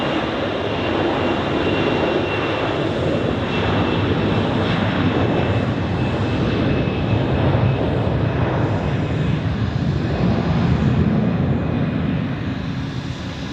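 A jet airliner takes off at Zurich Airport with a loud, sustained engine roar that stays strong and steady for the whole stretch, dense broadband rumble with no voices over it.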